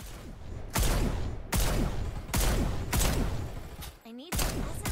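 Bursts of rapid gunfire in the online shooter Farlight 84, several loud sustained volleys separated by short gaps, with a player's voice briefly heard amid the shooting.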